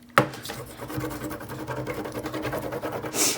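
Hand rubbing presses an image transfer onto a surface, giving quick scratchy strokes that repeat in a steady rhythm after a sharp initial tap, close and fairly quiet.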